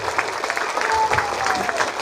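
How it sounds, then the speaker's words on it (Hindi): Congregation clapping at a church meeting in Murtizapur, a dense spread of hand claps under a faint tonal note and some crowd murmur. "आप ताली बजा सकते हो।"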